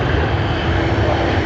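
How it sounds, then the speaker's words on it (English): A private jet at Sydney Airport gives off a loud, steady engine roar that holds at a constant level. "Wow, that private jet looks so awesome."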